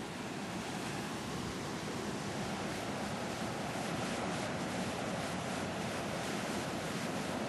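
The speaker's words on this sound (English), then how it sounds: "Yeah, this is the ocean." Ocean surf rolls in a constant, even wash of breaking waves, heard faintly from a roadside spot by the shore, mixed with wind noise and with no talking.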